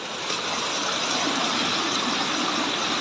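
Floodwater rushes along a road in Barangay Santa Rosa that has become a river, a dense, steady roar of flowing water, loud and unbroken throughout.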